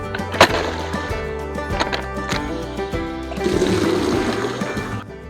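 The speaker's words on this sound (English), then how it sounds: "I'm gonna break up the ice in this one and get the goats some fresh water." Ice being broken up in a goats' water bucket on a homestead in winter: several sharp, hard knocks and cracks early on, followed by a sloshing, splashing stretch of water near the end.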